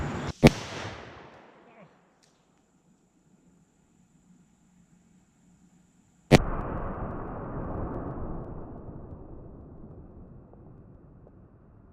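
A Dan Wesson .44 Magnum revolver fires a single shot into a pumpkin, a sharp loud blast followed by a long trailing rumble outdoors, preceded by an earlier fainter bang.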